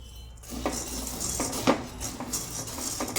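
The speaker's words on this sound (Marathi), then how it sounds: "हलक्या हलक्यावरच भाजून घ्यायची अशी डाळ भाजायची" Lentils are dry-roasted in a pan for chakli flour: a spoon scrapes and taps against the metal pan in an irregular rhythm over a low background hiss, close and fairly quiet, without speech.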